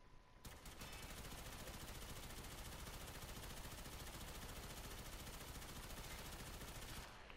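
A Gorgon rapid-fire gun in the Warframe video game lets off one unbroken, loud burst of fire for nearly the whole stretch. It starts abruptly just after a short silence and cuts off near the end.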